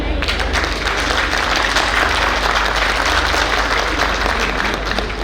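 Audience applause greets Kapil Mishra at the Delhi Shabdotsav 2026 event, a dense, steady wash of many hands clapping that fills the hall evenly from start to finish.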